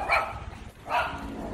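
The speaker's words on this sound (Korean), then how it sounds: "개들이 자꾸 짖어요" Dogs on a street in Dalat, Vietnam bark at a passerby in the morning, two sharp close barks separated by a short pause over a low background hum.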